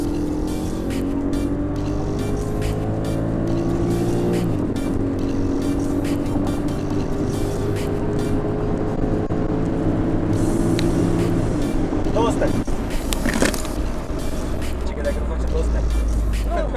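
A car engine pulls hard through rising revs with a gear change partway, loud and steady, ending in a deep rumble.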